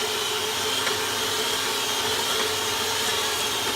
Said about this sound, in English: Then we whisk this all together.